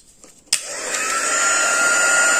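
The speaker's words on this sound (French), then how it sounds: "je vais sécher avec mon pistolet." After a soft click, a heat gun whooshes on and holds a steady, loud, close blowing roar with a whining tone while it dries embossing powder.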